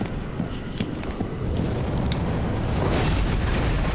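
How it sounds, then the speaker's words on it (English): A fireball spell explodes in Dark Souls 3, a deep booming burst that swells into a broad roaring blast near the end, loud and close over an already rumbling background. "You shot a fireball through your friend."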